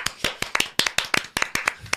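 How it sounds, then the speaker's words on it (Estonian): Applause for the Estonian women's beach volleyball team reaching the Nations Cup final: a brisk run of sharp, distinct hand claps in a fairly steady rhythm, close and clear, with no talking. "Teeme aplausi."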